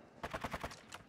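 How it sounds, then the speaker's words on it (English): A rapid run of about six automatic gunshots in a multiplayer shooter game, faint and distant-sounding, with a final shot after a short gap. "Who's shooting?"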